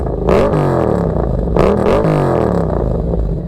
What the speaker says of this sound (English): Let's go ahead and get a couple revs in too.